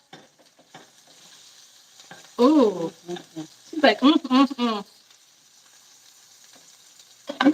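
A quesadilla with shredded mushroom tinga sizzles steadily in a hot pan with a soft crackling hiss, while someone speaks over it in short bursts.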